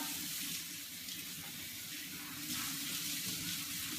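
Pinto beans rinsed under a running kitchen tap: a steady, moderately loud wash of water streaming into a sink, continuous for the whole stretch with slight surges and no talking.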